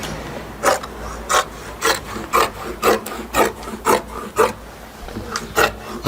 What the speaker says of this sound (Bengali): সামনের ফ্লাইটা আগে কাটতে হবে